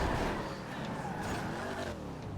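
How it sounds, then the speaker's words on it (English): Engine noise from cars in GTA V rumbles and whines continuously, with a rising and falling pitch like vehicles driving close by, mixed with talking. "I hear cars behind me."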